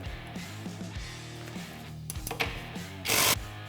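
Metal clicks and ratcheting as a bolt is removed from the tie rod knuckle on a Can-Am Maverick X3, close and moderately loud, ending in a short loud burst of mechanical noise.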